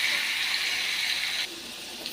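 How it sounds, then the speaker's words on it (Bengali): Potatoes with turmeric fry in a pan, giving a bright, steady sizzling hiss that drops off abruptly partway through and leaves a quieter background. "আলুটা ভাজা হতে থাক বন্ধুরা।"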